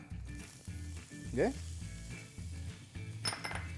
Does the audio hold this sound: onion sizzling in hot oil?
yes